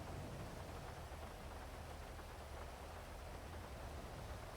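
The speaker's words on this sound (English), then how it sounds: "This rain is so loud." Loud, steady rain pours in GTA V during a NoPixel roleplay session, a dense unbroken hiss that fills the whole stretch with no voices over it.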